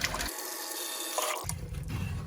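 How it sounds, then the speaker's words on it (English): A tap runs into a sink used for pottery wheel throwing, a steady rushing pour that cuts off abruptly partway through, leaving quieter room sound. "Using this sink, we're gonna fill it up with water."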